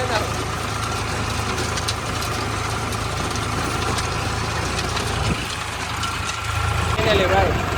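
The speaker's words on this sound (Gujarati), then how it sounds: "રોટાવેટર ચાલુ કરી દીધું અને આવી રીતનું કંઈક હાલે છે." A tractor engine runs at around 1100 RPM while driving a rotavator, giving a steady, loud, low mechanical drone that continues unbroken and swells slightly toward the end.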